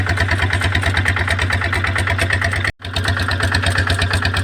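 A seed-sowing machine's engine runs loud and steady nearby, giving a rhythmic mid-range drone with a momentary break partway through.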